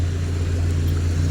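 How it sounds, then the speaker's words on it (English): Street traffic in Phuket, Thailand, with cars and small motorbikes passing, forms a steady low engine rumble and drone that stays loud and constant without pauses. "you always have to navigate your way between the cars and little bikes"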